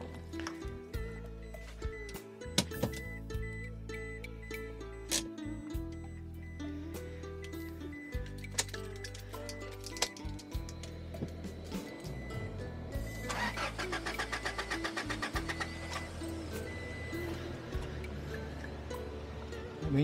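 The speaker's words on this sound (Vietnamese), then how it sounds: "nổ máy xem có được không" A vehicle engine on a rough rural road repeatedly cranked with stuttering chugging bursts, then catching into a fast rattling idle, close and without speech.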